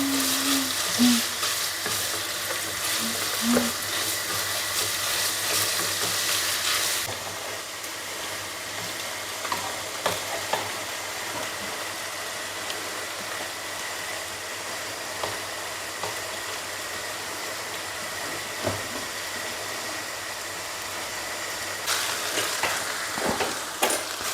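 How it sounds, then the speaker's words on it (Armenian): Chicken pieces and carrot fry together in a hot pan, a dense steady sizzle with occasional stirring scrapes, loud and close, brighter for the first few seconds and again near the end. "միսն եմ լցնում, հավի մի լավ առատ ու գազարը, սրանք իրար հետ տապակեմ"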